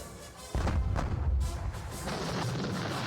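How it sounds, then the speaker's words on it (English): Artillery fire from a Napoleonic war strategy game, a sudden deep boom followed by a rolling rumble and further muffled thuds, continuous and moderately loud, with no talking. "we're just going to chip away at their numbers with our artillery"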